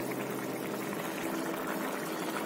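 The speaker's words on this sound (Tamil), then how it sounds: "கொதிச்சு பாருங்க ஸ்டவ் ஆஃப் பண்ணிடலாம்" Mushroom gravy made with coconut milk bubbles at a steady boil on a stove, a dense, continuous close-up simmering and popping that stays even in level throughout, with no voices.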